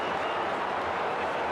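An AFL crowd at Carlton versus Greater Western Sydney roars and cheers at a player, a dense, steady wash of distant voices and scattered clapping with a faint commentator underneath.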